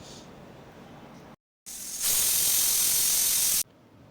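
A pressure cooker holding moong dal and water vents steam in a steady, loud hiss that cuts off briefly, then surges back stronger for a couple of seconds before stopping abruptly.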